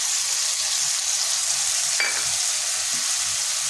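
Spice paste and tomato frying in a pan for a vegetarian potol and pumpkin curry, a steady close sizzle with one brief stirring scrape partway through, no voices.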